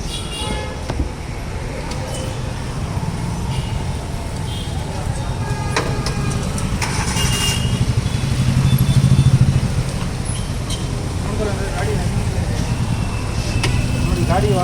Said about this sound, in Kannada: ನಿಮಗೆ ಒಂದ್ಸಲಿ ಗಾಡಿ ಕೂಡ ಸ್ಟಾರ್ಟ್ ಮಾಡಿ.